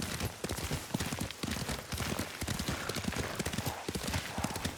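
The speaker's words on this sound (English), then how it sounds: "Lord Sakai taught me to ride a horse." A ridden horse's hooves clip-clop in a steady, fast rhythm, loud and close, in the samurai video game Ghost of Tsushima, with no voices over it.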